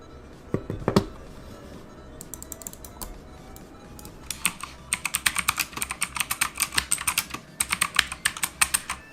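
A Gamepower Ogre mechanical keyboard with blue switches is typed on up close: sparse early keystrokes, then dense runs of sharp, clicky presses in quick irregular rhythm, with a steady faint background hum.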